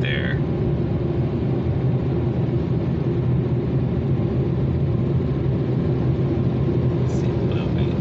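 Car wash drying blowers at a Shell Robo Wash run as a loud, steady broadband roar that holds constant throughout, close and continuous with no pauses.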